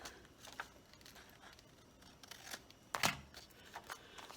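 Scissors trim paper during a creative journal craft project, making a few soft snips and one sharper cut near the end, quiet and close.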